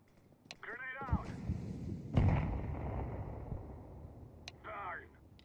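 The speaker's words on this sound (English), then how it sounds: "Grenade out." A grenade blast in the Counter-Strike 2 video game, a single loud burst with a rumbling decay that follows a short sharp transient, while someone talks before and after it.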